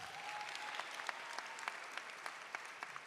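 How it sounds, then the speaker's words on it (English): An audience applauds at the Plantation High School 2025 commencement at the Broward Center for the Performing Arts. The clapping is moderate and fairly distant, with individual sharp claps standing out over a steady wash, and a faint tone runs briefly early on. "Give Ms. Robinson another round of applause"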